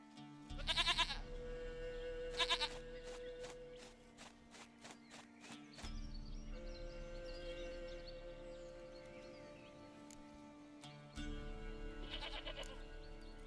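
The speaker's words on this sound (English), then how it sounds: "Goat of mine, dearest, sweetest goat." Goat bleating in The Witcher 3 game: three loud, wavering bleats near the start, just after two seconds and near the end, over a steady in-game background hum.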